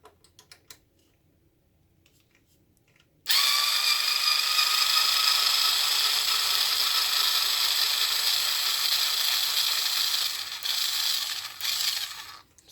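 A screw is backed out of the rear bumper section of a Traxxas Unlimited Desert Racer, a close, steady high whirring of a small driver that starts abruptly after a quiet moment and runs on, faltering near the end.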